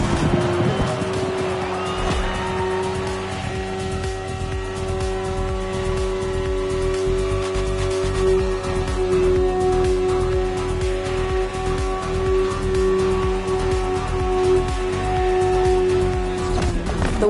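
A BMW S1000RR superbike engine in a video game drones steadily at high revs with a sustained whine and shifting pitch, loud and continuous throughout.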